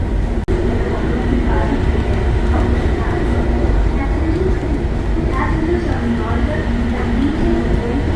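A Bangkok Gold Line metro train rumbles steadily nearby as it arrives at a station, with a low continuous roar and rolling wheel noise, a sharp click near the start.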